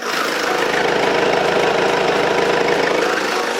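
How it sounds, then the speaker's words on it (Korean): A Mercedes-Benz diesel engine idles with the hood open, a steady, even rumble and faint rhythmic knock, heard up close and loud without pause. "영상으로 엔진 소음 한번 담아보도록 하겠습니다"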